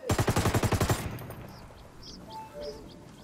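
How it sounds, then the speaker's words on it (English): A rapid burst of automatic gunfire in the video game Ghost Recon Wildlands, about a dozen evenly spaced loud shots over roughly a second, followed by a quieter stretch of ambient game noise with faint bird-like chirps. "I'm shooting at him, Mo. I'm shooting, Mario. I got people shooting at me, too."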